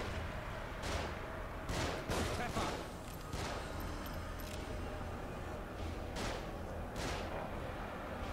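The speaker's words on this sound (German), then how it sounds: "Muss man erstmal einen anderen Schuss setzen." Gunfire in the survival-horror video game The Evil Within, several sharp shots spaced irregularly across the stretch over a dense background of game sound, with a voice talking over it.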